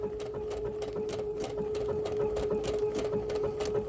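A sewing machine runs steadily, stitching just inside the edge of an applique on a blossom wall hanging quilt, giving a continuous close mechanical whir with a fast, even needle rhythm and a steady hum.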